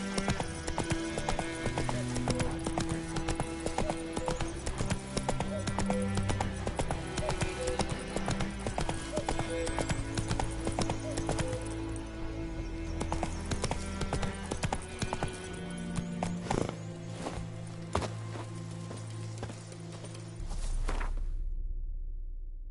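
Horse hooves clip-clop steadily as Geralt rides Roach through The Witcher 3, a continuous trotting rhythm over game music and ambience, with a short neigh near the end and a quiet stop.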